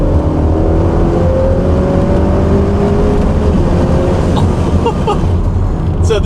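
A hybrid-turbo 2-liter Honda Accord engine, about 400 hp, runs loud and close, a steady, dense roar that holds throughout with a faint rising tone.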